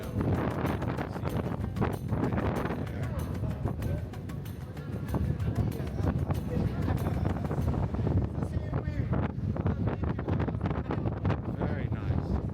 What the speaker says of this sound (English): Wow, it's really windy today